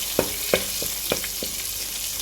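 Butter and a spoonful of oil sizzle in a hot pot for a Goan stew: a steady, close frying hiss broken by several sharp, evenly spaced clicks and pops.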